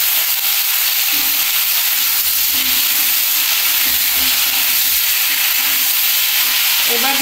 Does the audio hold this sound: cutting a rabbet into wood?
no